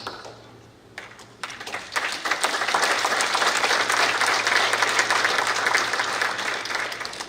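A few scattered claps at first, then a big crowd at a veterans' dinner bursts into loud, sustained applause that holds steady before easing slightly.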